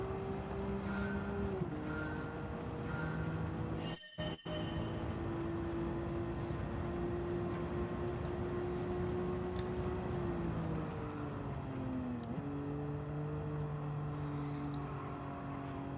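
Gran Turismo race car engine droning steadily through a lap in the video game, pitch rising and dropping with gear shifts, with a brief cutout around the four-second mark and no voices.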